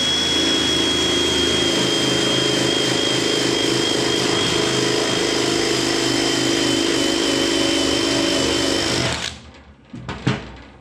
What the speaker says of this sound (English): disc on the cordless drill and just take this primer off